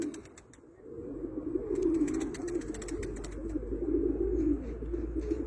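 White Istanbul pigeons coo in low, throaty, repeated rolls, close and continuous, with a few faint clicks and rustles around them.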